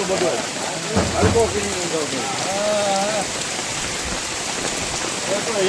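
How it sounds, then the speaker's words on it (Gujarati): Heavy unseasonal rain pours steadily on surfaces near farmland in Keriya village, Ranpur, Botad, as a loud, dense, unbroken patter. People talk beneath it. "આ વરસાદ આવ્યો"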